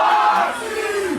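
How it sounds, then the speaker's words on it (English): Seattle Seahawks fans, a sea of blue and green gathered away from home, roar together in a loud, massed crowd cheer that swells and then falls off. "Fans cheering on their favorite team"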